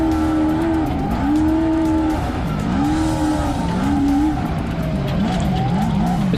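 Race trucks roar around a dirt track with a jump, engines revving and shifting in rising and falling sweeps, loud and close for several seconds with no voices.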